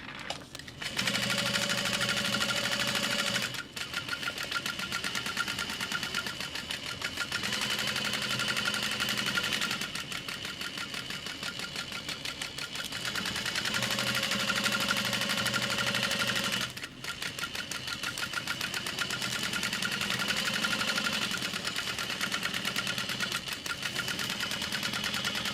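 A sewing machine bastes through thick stacked backpack fabric layers, its needle chattering in fast steady runs broken by a few brief pauses, close and loud with no talking.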